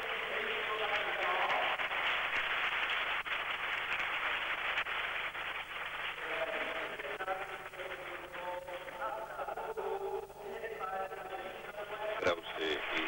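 Crowd applause at the 1983 Rhythmic Gymnastics World Championships hoop final, a steady wash of clapping from a distant arena audience, heard through broadcast-quality sound with a commentator talking over it.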